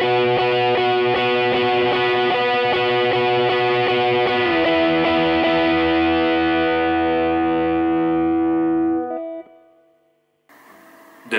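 Electric guitar with effects playing a main riff, a ringing repeated figure with a bent note that sustains and fades out, followed by a short faint noise.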